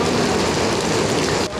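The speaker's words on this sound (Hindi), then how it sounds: "इतनी ज़्यादा तेज बारिश हो रही है, बहुत ही ज़्यादा तेज बारिश है" Heavy rain pours down in a dense, steady roar, loud and close, with no voices.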